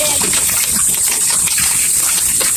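Water gushes and splashes continuously in a loud, steady rush while pigs are being bathed on a farm, with indistinct voices faintly mixed in.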